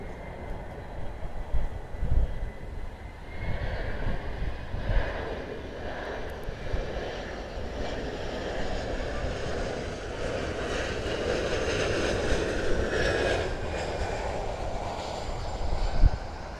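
Embraer 175 airliner arriving at Miami airport: a continuous jet engine roar with a broad whine, at moderate distance, gradually swelling and easing as the aircraft passes.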